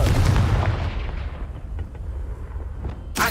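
Confringo explosive spell in Hogwarts Legacy: a heavy booming blast that rolls into a long, fading rumble, with a sharp burst at the very end.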